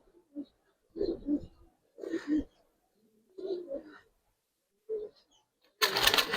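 Young Giribaz pigeons coo in short separate bursts, close and clear against quiet, with a louder burst of noise at the very end.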